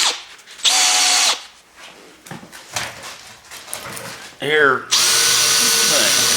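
A handheld power drill whirs in two loud, steady bursts as it spins a small drum chucked by its shank, used for cleaning parts while prepping a Bronco II motor; someone speaks briefly between the runs, and a second burst runs faster.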